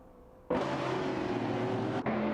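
Simulated race cars in a racing simulator video game give off a steady, droning engine whir that starts abruptly and holds at an even level, with a brief dip near the end.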